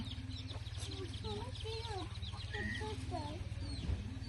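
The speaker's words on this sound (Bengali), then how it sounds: "ওই যে ছোট ছোট মুরগির বাচ্চা।" Chickens and small chicks cluck and peep close by on a winter morning in a village, with a steady run of calls over a constant low background drone.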